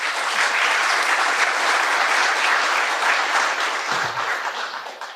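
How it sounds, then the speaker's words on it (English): Audience at an autonomous vehicles tech showcase panel gives a full round of applause, dense steady clapping that stays loud throughout and only thins slightly at the end. "Can I have a round of applause for them"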